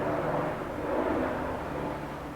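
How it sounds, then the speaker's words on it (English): An airplane flying overhead, a steady broad roar that fills the whole stretch at a constant level, loud and unbroken with no talk. "If you're hearing that noise, it's a plane."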